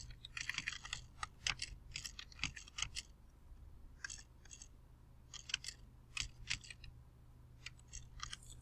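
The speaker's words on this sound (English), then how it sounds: "I'm going to type in once again and click Save." Quiet, close typing on a computer keyboard comes in irregular bursts of crisp key clicks separated by short pauses, alone without speech.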